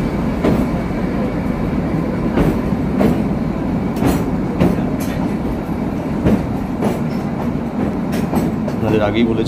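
The Kalka–Shimla toy train rumbles steadily along, its wheels clacking at a regular beat, the sound full and enclosed as it runs through a tunnel.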